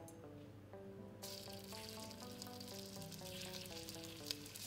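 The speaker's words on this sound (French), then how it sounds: "Je mets mes parures à rissoler." Pork trimmings hit a smoking-hot rondeau pan and break into a loud, steady sizzle about a second in, continuing without pause over a background of sustained tones.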